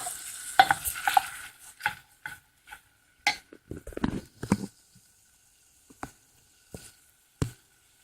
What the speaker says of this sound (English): we're going to stir this really well